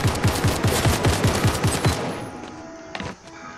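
A rapid burst of automatic gunfire in the video game Fortnite on Nintendo Switch, sharp, evenly spaced shots for about two seconds, then a quieter tail with a faint clatter.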